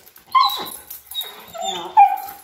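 A dog whimpers and yips in short, high, nasal cries while its claws are being trimmed, up close with no talking.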